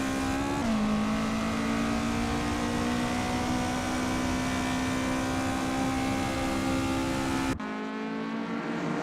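Lotus Cortina race car at Silverstone in Assetto Corsa, its engine droning loud and steady at high revs, with a brief pitch dip at a gear change near the start before the sound cuts away near the end.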